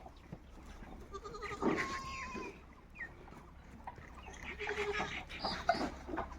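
Goats bleat several times at a farm where they are kept and watered, the calls rising and falling over quiet background noise with a few louder cries near the middle and end.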